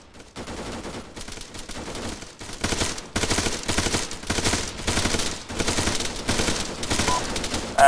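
Sustained automatic gunfire in the military shooter ARMA 3, long dense bursts of rapid shots and fusillades rattling almost without pause, loud and close.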